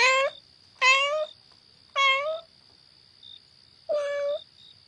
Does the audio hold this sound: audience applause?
no